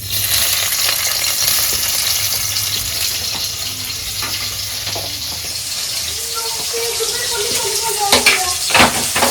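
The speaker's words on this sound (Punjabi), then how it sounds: "ਹੁਣ ਤੜਕਾ ਲਾ ਦਈਏ ਪਹਿਲਾਂ ਪਿਆਜ਼ ਪਾਉਨੇ ਆਗੇ" Onions sizzle in a pan for a tadka, a continuous close fry that grows busier with clattering stirs and splashy, watery crackles toward the end.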